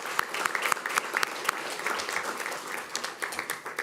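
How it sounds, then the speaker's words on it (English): Applause from an audience at a school police swear-in and promotion ceremony, a steady wash of many hands clapping with sharper individual claps standing out, fairly close, continuing evenly without speech throughout. "One more round of applause for our new guys and girls."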